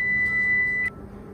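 A kitchen timer gives one sustained electronic beep lasting just under a second, then cuts off, while red lentil pasta boils on the stove in a home kitchen.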